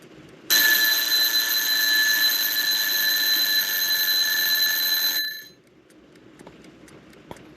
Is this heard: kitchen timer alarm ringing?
yes